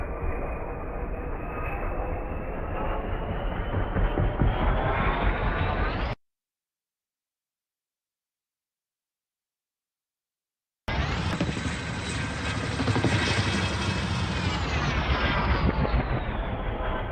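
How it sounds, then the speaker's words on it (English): A black military helicopter passes overhead in Washington, a loud, continuous rumbling drone. The sound cuts out completely for several seconds partway through, then returns just as strong. "the black helicopters keep flying over here too"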